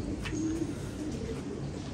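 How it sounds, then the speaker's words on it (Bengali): A pigeon coos softly nearby, a low throaty burble repeating a few times over a steady background. "এই যে সেই কবুতর"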